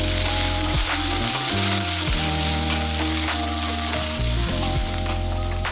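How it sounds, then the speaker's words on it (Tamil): Black pepper and fenugreek seeds splutter and crackle in hot oil with shallots, curry leaves and dried chillies for a South Indian sambar tempering, a loud continuous sizzle with stirring scrapes and popping throughout. "மிளகு, வெந்தயம் எல்லாமே சேர்த்து நல்லா வெடிக்க விடணும்."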